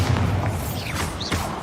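A short, deep magical blast from the Bombarda spell in the video game Hogwarts Legacy, a single low boom with a swishing whoosh over game ambience.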